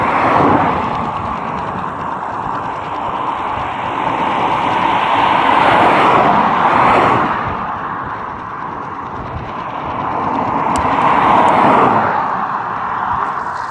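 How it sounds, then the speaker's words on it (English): Traffic passes on a dual carriageway, heard from a bicycle on a UK road. A steady broadband roar swells and fades as vehicles go by, with loud whooshes rising and falling in waves and no talking. "Dual carriageway."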